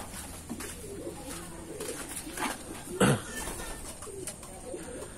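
Pigeons coo in the hen section of a loft housing Taiwan gold line birds, soft repeated throaty coos overlapping near and far, with one louder flutter-like burst midway.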